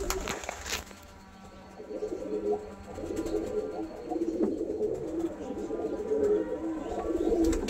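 Domestic pigeons at a home loft coo continuously and close by, with soft throaty rolls repeating over a low room murmur.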